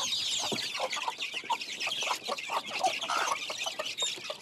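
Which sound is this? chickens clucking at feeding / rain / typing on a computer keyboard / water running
chickens clucking at feeding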